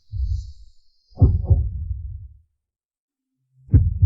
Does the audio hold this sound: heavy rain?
no